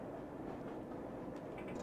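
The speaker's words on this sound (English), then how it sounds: "let's go down to 25 as we enter the station, and let us bring the train to a halt" A Bakerloo Line London Underground train runs in Train Simulator 2020 on the route from Elephant & Castle to Harrow & Wealdstone, giving a faint, steady low rumble with no talking.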